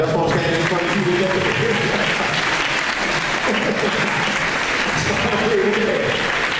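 A school assembly audience claps, steady and dense all the way through, with a few voices and whoops mixed into the broad wash of hands.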